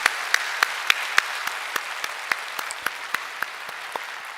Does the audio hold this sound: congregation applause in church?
yes